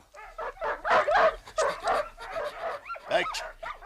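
Several sled dogs yip, bark and whimper in quick overlapping bursts, close and fairly loud, with voices mixed in among the cries.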